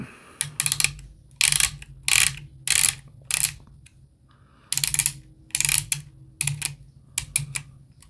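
A screwdriver backs out the elevation screw on the rear sight of a Browning Buck Mark Camper pistol, producing close, crisp bursts of clicky ratcheting turns in uneven groups separated by short silences.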